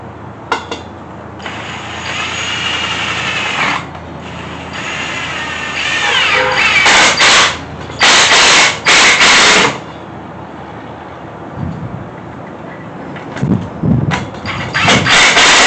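A power drill drives a screw into scrap wood boards with short whirring bursts that strain and stop, close and fairly loud, over a low background hum and a few knocks.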